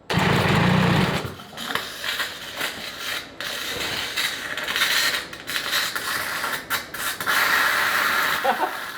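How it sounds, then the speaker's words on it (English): A starter motor cranks a Cosworth XD IndyCar engine with no fuel, so it never fires, a rapid, rasping mechanical churn running steadily for several seconds at close range. "No fuel yet, just a quick crank over and see what it says."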